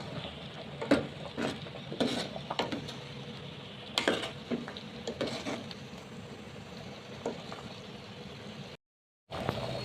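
Ginger, garlic and coconut paste being stirred into a simmering fish curry in a pot, with spoon scrapes and clinks against the pan over a soft bubbling sizzle, then a brief gap of silence near the end.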